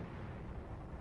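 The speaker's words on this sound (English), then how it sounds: "looking for the position of an enemy gun that's been shelling our lines" A deep, rumbling boom from an enemy artillery gun shelling front lines during the Korean War, heard from a distance as a single muffled, low roll that fills the short moment.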